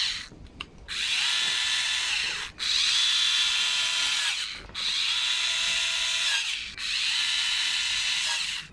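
A power drill or driver tightens the carburetor cover screws of a Ryobi RLT26CDSN string trimmer in four sustained whirring bursts, each a couple of seconds long with brief pauses between, loud and close.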